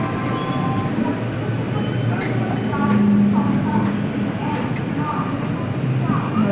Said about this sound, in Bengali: ব্যারাকপুর স্টেশন। ওই এসি লোকালটা দাঁড়িয়ে আছে।